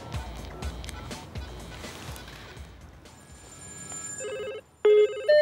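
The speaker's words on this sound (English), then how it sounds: "We've got a further 100 mobile phones ready to ring them." Many mobile phones placed around an egg begin ringing, their electronic ringtones overlapping near the end after a stretch of scattered clattering.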